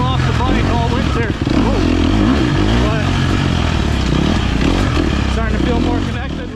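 Dirt bike motorcycle ridden after a winter off, a loud continuous engine drone with revving swells close by throughout, while someone narrates over it.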